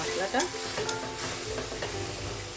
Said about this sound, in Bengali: এইবার ভালোভাবে কষিয়ে নেবো